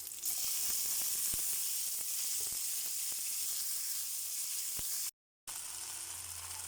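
Onion and tomato sauté in a hot pan with a steady loud sizzle and hiss, broken by a few soft stirring clicks and a brief cut to silence near the end.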